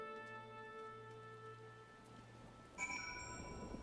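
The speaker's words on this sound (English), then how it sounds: "And here comes the rain again." Steady rain patters across an in-game Final Fantasy XIV scene, a soft continuous wash beneath tonal ambient music, swelling slightly louder near the end with a brief chime-like flourish.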